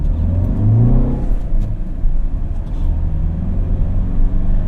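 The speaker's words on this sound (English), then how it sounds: "as soon as you depress the clutch, the engine starts again" A 2016 VW Touran 2.0L TDI diesel engine restarts via start-stop as the clutch is pressed, rumbling low and steady, a deep idling drone with a brief swell as it catches and keeps running.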